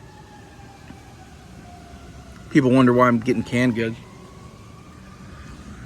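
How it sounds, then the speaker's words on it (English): Faint emergency vehicle sirens wail in the distance in Tulsa, rising and falling slowly, while a person speaks briefly close by. "I cannot film a video without sirens"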